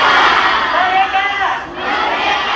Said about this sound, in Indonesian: Yuk kita teriak lagi yuk semuanya, Bapak Ibu adik-adik ya.